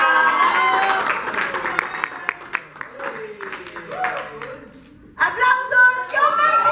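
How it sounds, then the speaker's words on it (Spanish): Clapping from an audience at a music group's press conference in Mexico during an award presentation, sharp scattered claps mixed with loud talking and cheering voices, close and lively. "¡Aplausos!"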